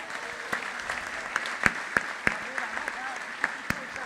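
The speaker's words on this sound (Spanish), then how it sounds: "Un aplauso a todas las mujeres." Scattered clapping from an audience at an anniversary event, a handful of sharp claps standing out over a low murmur of voices, fairly thin rather than a full ovation.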